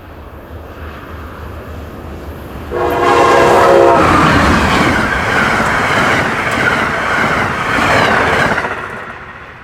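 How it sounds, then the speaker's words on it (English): Amtrak train on the Keystone Corridor hauled by an ACS-64 and P42 locomotive combination rounds a bend, sounding its horn loudly for a couple of seconds before the rumbling roar of the passing consist continues close by. "42 rounds the bend 20 minutes later with another unique ACS P42 combo."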